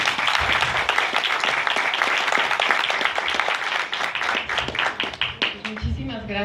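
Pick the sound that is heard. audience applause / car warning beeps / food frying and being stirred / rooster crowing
audience applause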